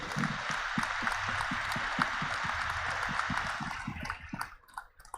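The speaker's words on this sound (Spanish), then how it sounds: "Les enviamos un caluroso aplauso" Sustained crowd applause with a broad hiss of many hands clapping at once, steady and fairly loud for about four seconds before thinning out and fading, with a few scattered low thumps underneath.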